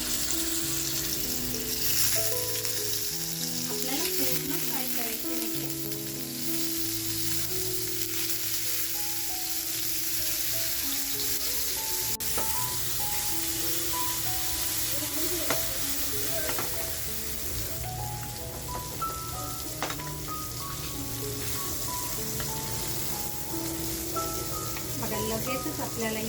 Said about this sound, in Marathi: गॅसवर बघा पॅन ठेवलाय आणि हलकीशी आपण मच्छी फ्राय करून घेणार आहोत